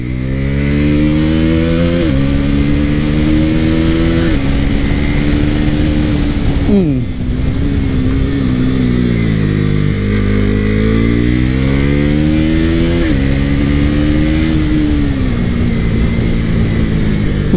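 A motorcycle ridden in sport mode on its first ride, its loud engine revving up and down through several gear changes, with a rider's voice partly heard over it.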